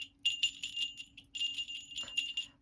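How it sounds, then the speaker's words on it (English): A small jingle bell hanging on a needle book tinkles in quick, bright bursts, shaken in two short runs, near and fairly soft, with no talking. "I put one of Mum's Jingle Bells on it."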